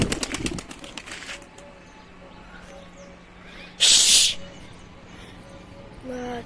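Pigeons taking off nearby, with one short, loud flurry of flapping wings rising out of a quiet outdoor background and a few faint clicks before it.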